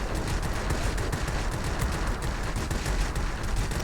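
Steady rapid gunfire from an F2G fighter's guns in a World of Warplanes dogfight, a continuous loud rattling burst that runs the whole time without pause.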